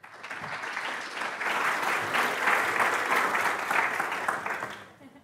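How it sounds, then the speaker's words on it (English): An audience at a cancer genomics lecture claps in a steady round of applause that swells, holds, then fades out near the end, heard from within the hall. "I wasn't expecting a clap at the start"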